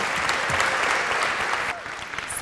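A talent-show audience bursts into steady, dense applause that fills the room, then thins and tapers slightly toward the end, with no talking over it.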